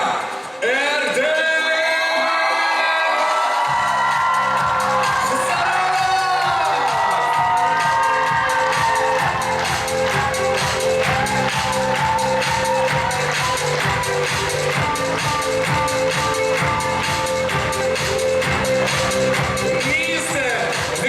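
Loud crowd at a Miss and Mister BGU 2019 university award ceremony cheers, whoops and shouts continuously, with broadband applause-like noise filling the whole stretch after a brief quiet start.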